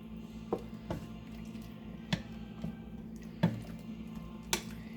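A pot of potsticker soup simmers quietly, with faint, scattered bubbling pops and soft blips over a low background hum.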